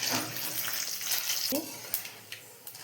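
Dried turkey berries (sundakkai vathal) frying in hot oil give off a bright, steady sizzle with crackling pops, up close.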